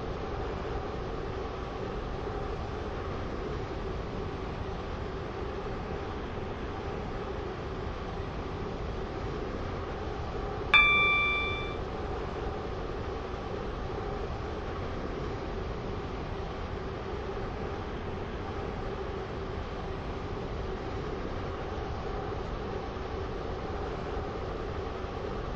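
Stepford Connect train running in the Roblox game, a steady, even rumble throughout with one brief sharp chime partway through and no talking.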